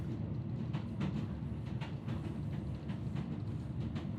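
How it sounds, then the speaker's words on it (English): Train wheels roll along the tracks on a European night train, heard from inside a carriage as a low continuous rumble with rhythmic clicks and knocks of the rails recurring steadily, no voices. "He could hear the wheels of the train rolling along the tracks"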